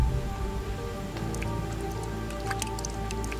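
Rain falling in a Singapore jungle, a dense steady hiss of drops with scattered nearby drips and splashes over a low rumble, continuous for the whole stretch.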